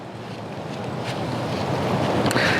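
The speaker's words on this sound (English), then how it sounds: "the wind is blowing very hard right now" Strong wind rushes outdoors in a steady, loud roar that batters the microphone and grows a little stronger toward the end, with no voices.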